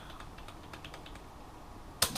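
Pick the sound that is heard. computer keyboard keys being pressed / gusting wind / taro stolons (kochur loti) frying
computer keyboard keys being pressed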